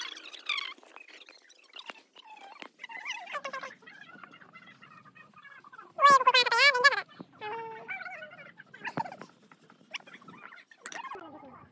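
Large local roosters calling in irregular bursts of clucks and squawks, with a louder, drawn-out crowing call in the middle, moderately near with quiet gaps between calls.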